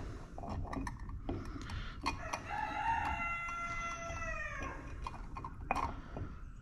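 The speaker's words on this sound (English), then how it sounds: "The rooster's telling you all good morning." A rooster crows loudly in one long, drawn-out call over steady background noise and scattered clatter.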